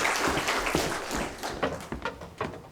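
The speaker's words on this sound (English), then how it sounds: "Could you give them a round of applause," Audience at a Grade 5 school prize-giving ceremony clapping for award winners, a moderate round of scattered hand claps with individual sharp claps standing out, fairly close and without speech.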